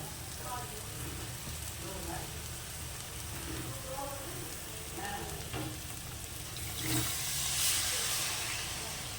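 Water poured into a pan of frying spice masala for a snakehead fish curry, a steady hiss and sizzle with a steam burst rising near the end, close and moderately loud.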